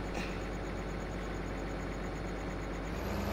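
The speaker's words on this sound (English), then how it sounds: "That tractor is loud." Tractor engine in the farming game Farming Simulator 15 drones steadily and loudly throughout, a continuous low idling rumble with no talk over it.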